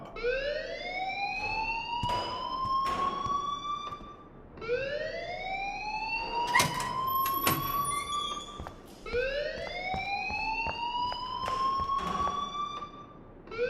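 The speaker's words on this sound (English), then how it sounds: "please turn off that alarm since that's your job." A school alarm in the Life is Strange video game wails in three rising sweeps, each climbing and holding for about four seconds before dropping and starting again, loud and insistent with sharp clicks scattered through it.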